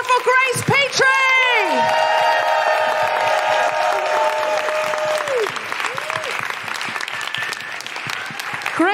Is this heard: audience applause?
yes